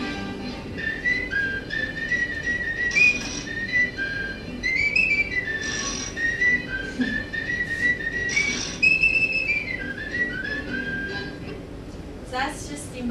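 Tuneful whistling from the Disney cartoon Steamboat Willie, a bright wavering melody carried over an old, hissy soundtrack with low rumbling machinery underneath.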